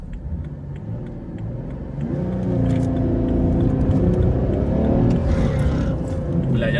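A BMW 3 Series E90 engine revs up and holds at high revs, its droning pitch climbing and wavering, loud and close, with a faint ticking underneath.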